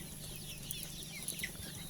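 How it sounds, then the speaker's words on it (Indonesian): A rooster sick with a snoring respiratory disease makes rattling, wheezy clucks and a few short raspy calls, close by and fairly quiet over a steady farmyard hum. "melakukan pengobatan ayam pejantan yang terkena penyakit ngorok atau nyekrek"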